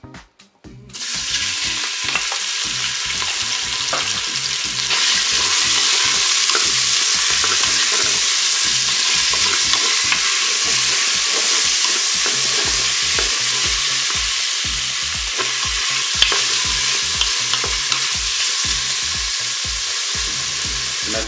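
Meat searing in hot olive oil inside a Cookeo multicooker for goulash: a loud, continuous close sizzle that kicks in after a second and holds steady, dotted with small stirring clicks.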